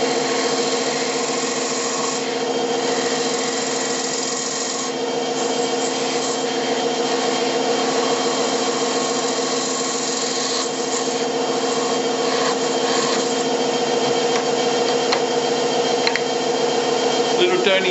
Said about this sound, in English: we'll just do it with a parting tool and clean it up